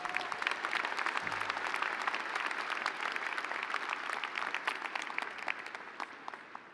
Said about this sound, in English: Can we give one more round of applause to today's honorary guests?